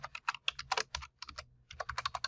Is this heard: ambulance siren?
no